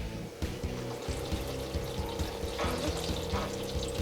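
Cold and hot water run from the taps of a 2021 Winnebago Revel RV into the shower drain, a steady close splashing rush that continues evenly throughout, without speech.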